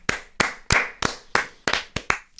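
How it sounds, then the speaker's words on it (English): Podcast hosts clap together in the studio, a short run of about eight slow, close, crisp hand claps with no talking. "I feel we should applaud that comment."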